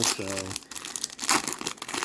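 A 1995 Topps Stadium Club trading card pack is pulled open, its sticky foil wrapper crinkling and tearing in several close, uneven bursts while a person talks and a short chirp sounds early on.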